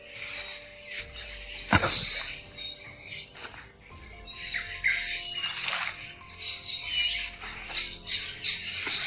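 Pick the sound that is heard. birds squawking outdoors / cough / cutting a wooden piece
birds squawking outdoors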